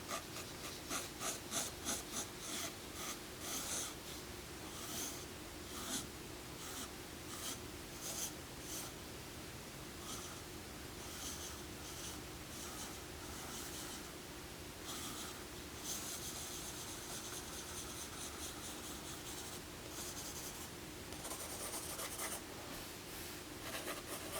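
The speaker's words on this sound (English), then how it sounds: "Just kind of let your pencil fill in all these blank areas." Continuous soft scratching of a pencil moving across paper while filling blank areas, close and quiet, with rhythmic strokes and light rubbing, no voices.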